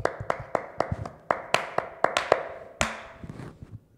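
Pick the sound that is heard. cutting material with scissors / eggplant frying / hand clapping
hand clapping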